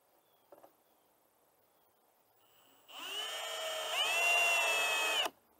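A power drill whirs up and drives a screw into a wooden bluebird house board, a short steady burst that rises in pitch partway through and stops abruptly after a faint knock and quiet moments.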